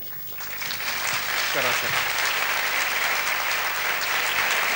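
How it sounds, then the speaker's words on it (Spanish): A conference audience at an international congress breaks into applause for the arriving speaker, clapping swelling within the first second and holding steady and loud, while someone briefly speaks over it. "yo les pido un fuerte aplauso para él"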